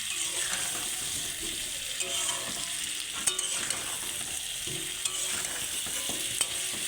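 Chicken and potato curry frying in a pan while being stirred, a continuous close sizzle with scraping and occasional clinks from the stirring, steady and moderately loud, no speech.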